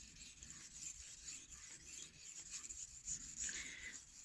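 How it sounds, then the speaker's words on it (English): A cheap knife is sharpened on an inexpensive whetstone, a faint, steady grinding scrape of blade across stone repeated in back-and-forth strokes, close to the mic and without speech. "so I just continue sharpening"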